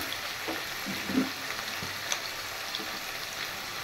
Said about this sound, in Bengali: এবার আমি দিয়ে দেবো আদা আর রসুনের পেস্ট